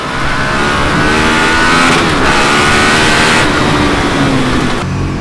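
A KTM Super Duke 1290 R motorcycle accelerates hard right beside the listener, its engine roaring loud and steady with the pitch rising through the gears and barely a pause.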